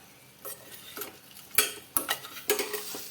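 Wheat ball mixture being mixed in a pan, with a spoon clinking and scraping against the metal in a few irregular strokes over a faint sizzle, fairly quiet and close.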